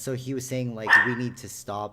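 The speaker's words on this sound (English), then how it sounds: "we apologize for the dog" A dog barks and yips loudly indoors during a podcast recording, with a few sharp barks breaking through people talking nearby.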